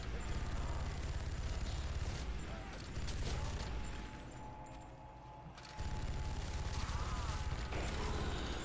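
Death Machine minigun firing continuously at zombies in the Call of the Dead video game, a dense loud rattling roar with a short lull midway, mixed with game noise.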